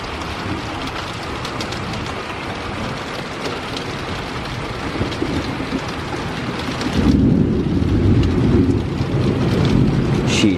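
A thunderstorm with steady heavy rain on surfaces, thunder rumbling low and growing louder in the final seconds, a continuous wash of rain noise throughout.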